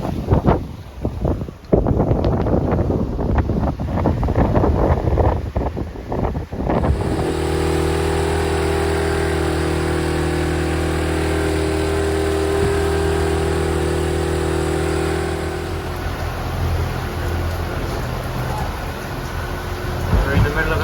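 Heavy rain and gusting wind from a squall lash a sailboat near Perforated Island, a loud continuous roar with steady low drone and hiss throughout, buffeting bursts early on.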